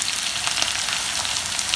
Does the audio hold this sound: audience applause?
no